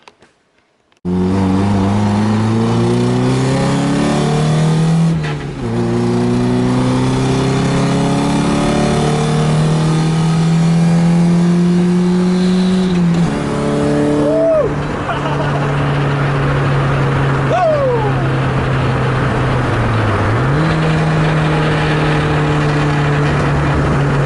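A Nissan S13 with a new full exhaust idles loudly then revs repeatedly in climbing, droning pulls with a deep, raspy exhaust tone, steady and close throughout.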